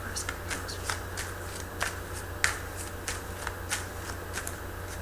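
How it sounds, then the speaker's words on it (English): Cards drawn from a fairy card deck make a series of soft, close snapping and flicking sounds at an irregular rhythm, with faint background noise. "I'm going to pull out a card from my fairy deck"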